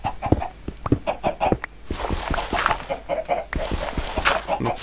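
Minecraft chickens clucking in a game world, a series of short, clipped clucks in quick irregular bursts, fairly close and clear, with no talk over them.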